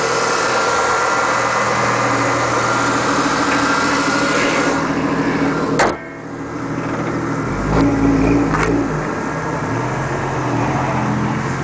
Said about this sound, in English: has a 6-cylinder motor, sounds nice and quiet